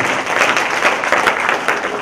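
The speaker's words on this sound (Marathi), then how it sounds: "एक वेळा टाळ्या तुमच्या निर्णयासाठी." Crowd applause at a saint's death-anniversary festival gathering, loud and dense with many people clapping continuously and evenly across the whole stretch, no speech over it.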